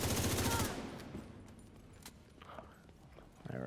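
A burst of rapid automatic gunfire in The Division 2 opens loud, then cuts off into quieter scattered shots and faint game sounds, with another burst starting at the very end.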